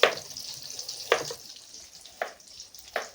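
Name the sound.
fish pieces frying in oil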